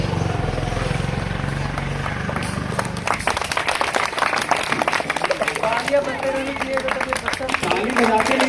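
Audience clapping at a school Holi prize ceremony, steady dense applause rising after a few seconds and continuing throughout, with a rumbling background.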